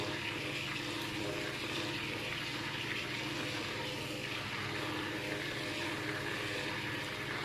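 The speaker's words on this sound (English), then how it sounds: "So here I'm just blending all of the oils together before I add my lye" Blender churning soap oils for cold process soap before lye water is added, a steady, moderately quiet whirring motor with a broad, even rushing wash that holds throughout without pause.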